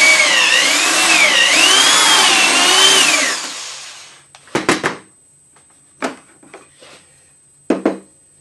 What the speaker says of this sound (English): In this case I'm using a corded drill, and you drop it into one of the holes.